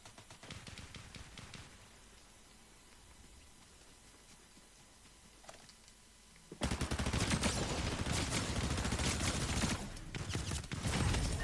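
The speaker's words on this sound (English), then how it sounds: "But every time they pulled the trigger, that was doing a double blast." Rapid rifle gunfire from enemies in a World War II style shooter game, a loud burst of dense shots erupting after quieter scattered shots and background game noise, with each trigger pull giving a doubled blast.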